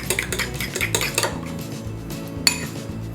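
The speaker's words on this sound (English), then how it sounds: "You're looking for the eggs to pass easily through the fork, so you know that they're going to mix well." Quick metallic clinking of a fork whisking eggs in a bowl for a Victoria sandwich cake batter, a steady rapid rhythm of close taps with one sharper knock near the end.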